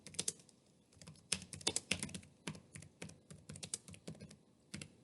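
Someone types a question into a Google form survey on a computer keyboard, making quick, irregular bursts of soft key clicks close up, with short pauses between runs.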